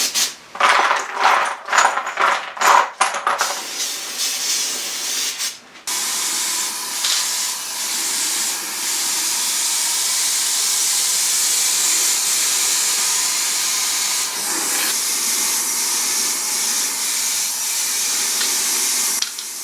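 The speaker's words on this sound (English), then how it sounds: "I'll spray moisture dispersant on all the little nuts and bolts, just to stop them from flash corroding." Moisture dispersant sprays onto the nuts and bolts of a Daihatsu Charade's rear suspension, starting with short hissing bursts and then settling into a long, steady, loud spray hiss, close by and with no talk.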